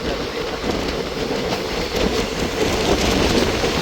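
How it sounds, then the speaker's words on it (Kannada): A passenger train between Mysuru and Arasikere, India, rumbles along steadily with a continuous rolling roar and faint clickety-clack of wheels, heard from inside a nearly empty carriage. "passenger train"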